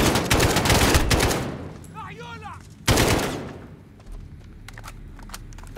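Gunfire from the video game Call of Duty: Modern Warfare: rapid bursts of shots at the start, then a sharp burst again partway through, followed by scattered single shots and lighter game sounds.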